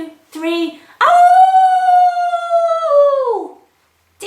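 People imitate a wolf with a long, loud rising-and-falling howl that holds for a couple of seconds after a short opening cry, voiced closely and clearly by a group at a children's storytime.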